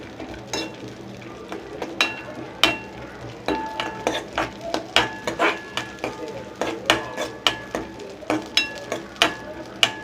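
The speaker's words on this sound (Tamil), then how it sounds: "நெய் வந்து மெல்ட் ஆனோடனே நட்ஸ் சேர்த்துக்கோங்க." Nuts roasting in melted ghee in a pan for ragi kheer with jaggery, with repeated sharp spoon-against-pan scrapes and clinks in an uneven rhythm over a soft sizzle, close and moderately loud.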